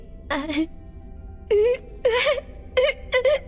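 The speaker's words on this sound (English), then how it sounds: "does it sound like someone is crying?" Anime dub scene with a voice crying in short, broken sobs and wails separated by brief pauses.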